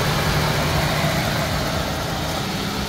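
A Mitsubishi Space Wagon engine idles steadily with the air conditioning running. It makes a constant low, rumbling drone at close range, with no talk over it.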